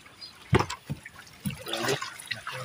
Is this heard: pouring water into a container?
yes